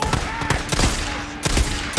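Gunfire in the video game Days Gone: a loud, close burst of rapid shots, several sharp cracks packed together over two seconds, with no talking.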